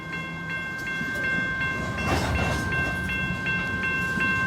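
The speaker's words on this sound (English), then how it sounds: "Train's probably about 100 cars long." Norfolk Southern freight train of about 100 cars pulling away at a coal mine loop in Madisonville, Kentucky, with steady rumbling rail noise, a sustained tonal hum and a louder swell near the middle, continuous throughout.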